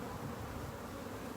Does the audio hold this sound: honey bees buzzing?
yes